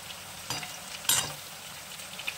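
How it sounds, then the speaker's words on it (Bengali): Fish frying in a pan, a low background sizzle broken by a few sharp crackles and pops, one louder burst near the middle, with no voices. "পাশে মাছ ভাজা হচ্ছে, তাই একটু চটপট চটপট আওয়াজ হচ্ছে"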